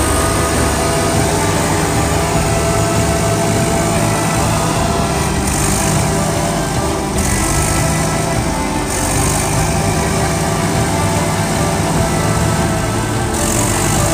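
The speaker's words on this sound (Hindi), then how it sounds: "बस भी चल रही है और ट्रैक्टर भी चल रहा है" A tractor and a bus run their engines together while the tractor tries to pull the bus, giving a steady, loud, continuous mechanical roar with no talk over it.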